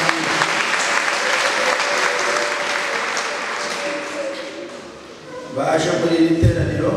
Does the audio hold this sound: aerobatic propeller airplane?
no